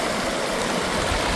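Mission Creek rushing along its bed, a loud, steady, close stream of burbling water with no pauses or voices.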